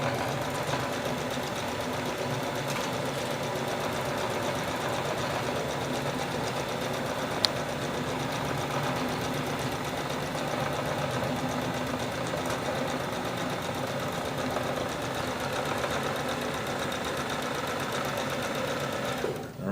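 Sewing machine stitching a fabric bag, its steady, fast mechanical whir running close and unbroken, with one faint click partway through.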